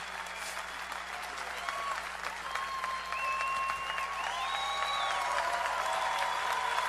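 Sustained audience applause with crowd noise at the 2013 Mr. Olympia bodybuilding event, steady and fairly loud throughout, building slightly toward the end.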